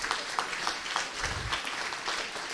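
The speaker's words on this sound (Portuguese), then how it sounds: "Pode aplaudir aí as medalhas deles," A church congregation in São Caetano do Sul applauds children who won medals during a Sunday celebration service, even, moderately quiet clapping throughout with a brief low rumble partway through.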